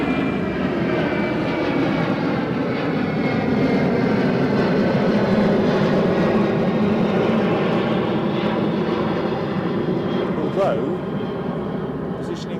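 Jet2 airliner climbing steeply after take-off at Edinburgh Airport, a loud continuous engine roar holding steady throughout at close range with no talk over it.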